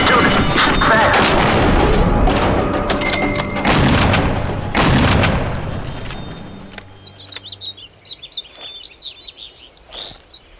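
Rifle gunshots from the hunting game Cabela's Big Game Hunter 2012, set in Montana: several loud, heavy booms in quick succession with lingering rumble, followed by a quieter stretch of chirping birds.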